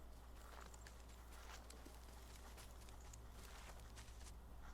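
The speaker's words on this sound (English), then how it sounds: "I hear footsteps." Footsteps approach in the hunting game theHunter: Call of the Wild, faint and distant soft steps in a loose rhythm over a low outdoor ambience.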